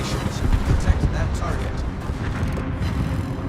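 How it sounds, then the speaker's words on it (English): Secondary guns on a warship in World of Warships firing repeatedly at an enemy ship, a dense rumble of continuous booming shots with a few sharper reports near the start. "now my secondary starts shooting at the enemy Holland"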